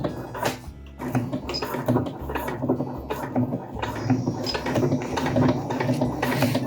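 A sewing machine tacking straps onto a homemade ultralight backpack, rapid mechanical stitching in short repeated bursts with brief pauses between, close and clear.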